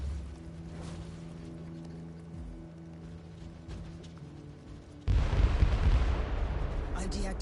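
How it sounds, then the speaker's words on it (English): Marauder bombers' bombardment in the PS4 game Warhammer 40,000: Inquisitor – Martyr: a quiet humming stretch, then a sudden heavy roaring barrage of explosions that stays loud and rumbling to the end. "The Marauder bombers are launching a second wave of bombardments."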